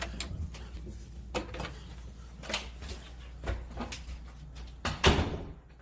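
A door somewhere downstairs in a house, heard as a few soft knocks and thuds scattered over a quiet, hissy room, with a louder clunk near the end.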